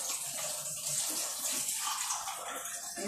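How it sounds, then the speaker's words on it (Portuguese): Water pours steadily into a cooking pot to cover beef trotters for a bean and tripe stew, a continuous faint splashing hiss with no speech. "vou colocar água"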